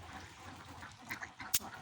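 Ducks on a duck farm quack faintly in the background over low ambient noise, with one sharper, louder call near the end.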